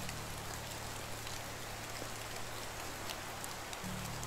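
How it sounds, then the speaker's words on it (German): Rain falls in the video game Medieval Dynasty, a steady, dense hiss of drops on surfaces that stays even throughout, with no speech. "Oder ist das der Regen?"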